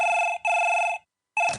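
Telephone bell ringing in two bursts, the first ring briefly broken, then a pause before a third ring starts; close, clear and alone with no talk.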